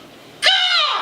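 A comedian on stage imitates a crow's caw with his voice, a single loud, harsh, nasal squawk that starts abruptly and holds for about half a second.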